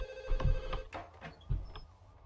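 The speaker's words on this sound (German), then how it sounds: "der geht gleich erstmal ans Telefon" A telephone rings in the video game Max Payne 2, a few repeated bright trilling rings at moderate level, with some low thuds of game sound around them.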